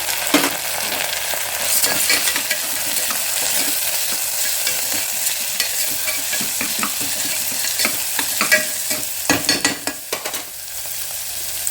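Green gram hits an onion tempering in a hot pan for banana stem palya, a dense, steady sizzle close by with frequent stirring scrapes and clatters throughout, no voices.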